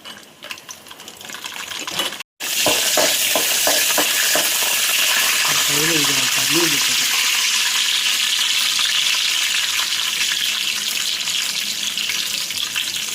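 Mustard seeds, urad dal, almonds and peanuts fry in hot oil for poha, a loud dense continuous sizzle and crackle that starts after a brief cut and holds steady throughout, close up, with a few faint clinks.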